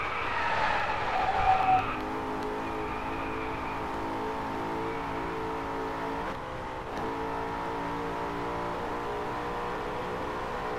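Race car engine drones steadily in the DriveClub video game, with a burst of tire skidding and revving early on, then a sustained engine tone that dips briefly midway.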